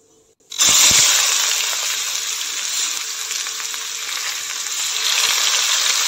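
Chopped onion dropped into hot leftover oil from frying eggs, giving a sudden loud sizzle that settles into a steady, close crackling hiss with no talk.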